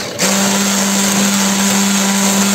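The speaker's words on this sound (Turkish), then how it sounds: "Mikserle çırpıyoruz köpürene kadar." A steady electric hand mixer whisks eggs and sugar, whirring continuously at a constant pitch, loud and close, starting abruptly and running without pause.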